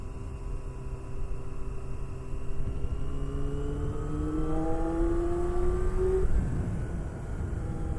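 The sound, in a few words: Yamaha FZR400RR motorcycle engine while riding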